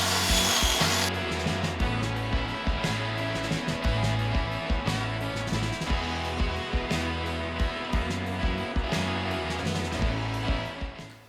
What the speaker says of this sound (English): we're gonna have to drill them out so they fit